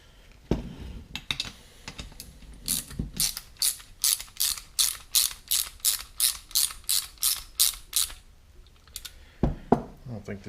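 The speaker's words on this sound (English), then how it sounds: "See if I can find a ratchet." A hand ratchet clicks in a fast, steady run of about twenty strokes while tightening part of a rebuilt automatic shifter on a 1968 Mustang, close and crisp, with a few scattered clunks before and after.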